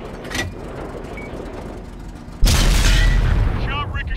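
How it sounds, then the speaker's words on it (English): A tank shell ricochets in World of Tanks on the Dragon Ridge map: a loud, heavy boom with a metallic ring cuts in abruptly halfway through, following quieter in-game ambience. "Shot ricochet."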